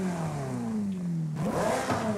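Race exhaust on a car in Forza Horizon 5, engine revving with a falling pitch that dips, then rises again in an aggressive snarl, loud and close with no talk.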